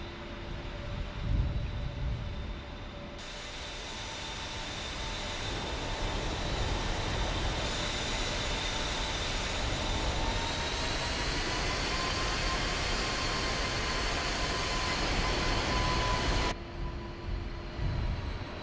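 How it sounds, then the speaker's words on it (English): A-10C jet in a flight simulator game taxiing on the ground, its engines producing a steady, loud turbine whine and hum that swells slightly and holds for a long stretch before cutting off. "I'm gonna start taxiing out"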